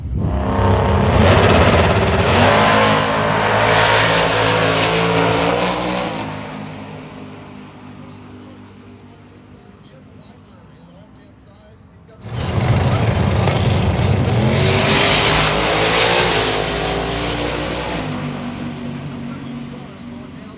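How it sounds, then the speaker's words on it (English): Two fast drag racing cars at Hot Rod Drag Week roar down the strip, loud engines rising in pitch and fading, then a second pair blasts off with another long accelerating roar. "We're gonna start watching some of the fast cars."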